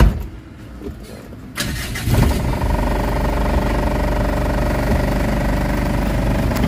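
A Mitsubishi Adventure engine with a low-power fault cranks and catches, then settles into a steady, close idle that hums evenly to the end.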